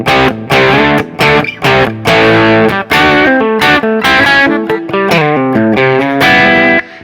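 An electric guitar plays chords and short phrases through an amp with mild grit, loud and close, with brief pauses between strums.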